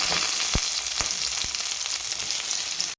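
Curry leaves crackle and sizzle in hot oil during a tempering of urad dal, chana dal and mustard seeds, a steady loud frying hiss with a few sharp pops, close up and without any voice.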